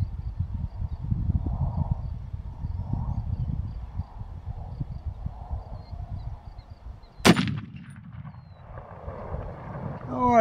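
One loud, sharp rifle shot from a Browning BAR chambered in .300 Win Mag rings out at an outdoor range with a 100-yard target. It cracks suddenly after a stretch of low wind rumble, then a brief rolling echo trails away.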